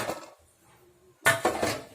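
A prepared plate of wheat flour biscuit dough set down into a pot preheated for oven-free baking, giving a brief metallic clink and clatter, then after a quiet pause a louder cluster of rattling knocks of dish against pot.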